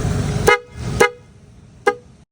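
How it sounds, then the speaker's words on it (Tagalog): Three loud, blaring car-type horn blasts from a motorcycle, two close together and a third after a short pause, sounding up close. "Ito nga pala yung tunog ng loud horn natin mga boss"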